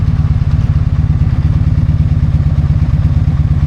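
A motorcycle engine idles close by, settling toward 1,000 RPM as it warms, with a steady, rapid low thumping pulse, loud and uninterrupted.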